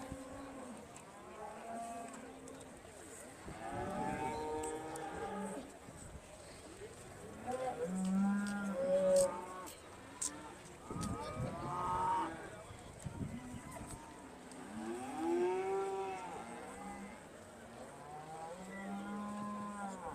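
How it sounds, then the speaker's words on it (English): Aberdeen Angus cattle in the judging ring at an agricultural show give several drawn-out moos at intervals, some quite close, while a commentator talks over the faint hum of the ring. "A lovely entry of Aberdeen Angus cattle forward this week."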